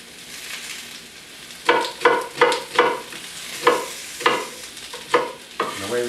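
A knife cuts through Chicago deep dish pizza ingredients in a run of about eight rhythmic, crisp strokes, evenly spaced and fairly close.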